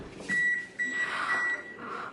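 A kitchen timer beeps in three short bursts of steady electronic tone, fairly clear in a quiet room with no talking.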